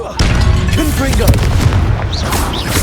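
A Confringo fire spell detonates in the wizarding video game Hogwarts Legacy, giving a loud booming blast with a rumbling tail, followed by game sound effects and a brief voice.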